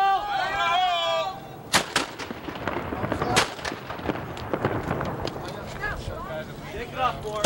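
A cannon fires in a loud, sharp boom, followed by a second blast and echoing rumble outdoors. People shout commands before and between the shots.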